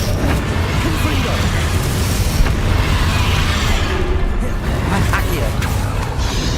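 Confringo fire spell blasting in Hogwarts Legacy, a dense roaring explosion rumble that stays loud throughout, mixed with game effects and a voice casting spells.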